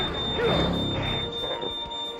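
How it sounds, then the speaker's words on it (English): A fire alarm sounds in the PS2 game Vexx as a house burns, a thin, steady high-pitched tone held throughout beneath busy game noise. "There goes the fire alarm."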